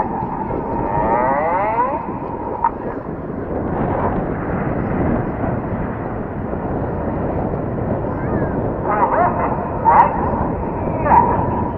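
Red Arrows Hawk jets flying in formation with white smoke on, a steady broad roar of jet engines continuing throughout, with a commentator talking over it.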